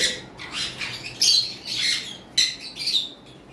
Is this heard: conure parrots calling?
yes